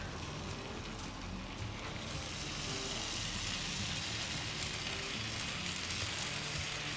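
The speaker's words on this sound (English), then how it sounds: "let's go ahead and get this bacon on" Big thick bacon strips sizzle on a Pit Boss griddle, a dense, steady crackling hiss that stays loud and close throughout with no voices.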